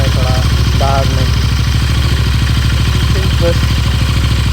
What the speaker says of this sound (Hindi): तो अभी अपन अपनी गाड़ी को फुल स्टार्ट पर रखेंगे।